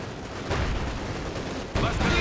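Dense gunfire and artillery rumble from the World War II strategy game Company of Heroes 2 form a steady, loud battle din, swelling briefly near the end.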